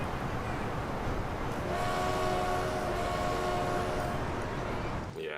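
Cargo trains rolling along a line in the Transport Fever building game, a steady rumbling mix with a faint tonal whistle or horn drifting through the middle, continuous and moderately loud.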